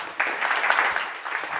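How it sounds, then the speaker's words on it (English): A brief burst of applause from the audience after a retail tech panel, a close, moderately loud patter of clapping hands lasting under two seconds. "round of applause"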